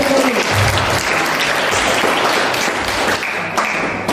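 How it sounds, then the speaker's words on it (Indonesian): Audience applause in a classroom after a student's music performance: a steady, dense burst of many hands clapping at close range, lasting the whole stretch with no talk over it. "Nah, tepuk tangan untuk Fadil"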